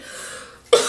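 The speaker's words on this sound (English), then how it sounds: "That was a cough." A single sharp cough bursts out close by near the end, after a stretch of quiet indoor room tone.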